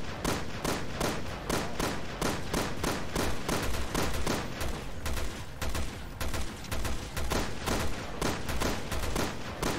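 Gunfire in Resident Evil Revelations 2 Raid Mode, loud rapid shots in a steady repeating rhythm that carries on without a break for the whole stretch.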